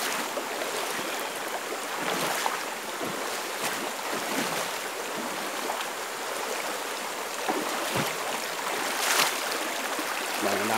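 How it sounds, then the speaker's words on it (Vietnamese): A cool forest stream rushes over rocks, a continuous close splashing wash with bright gurgling bursts, steady and fairly loud with no talking. "Đây suối đây. Suối mát."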